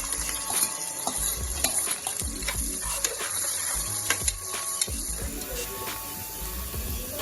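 Onions sizzling in a pan for a mutton curry, a steady hiss of frying broken by scraping and stirring clicks of a spoon against the pan, close and with no talk.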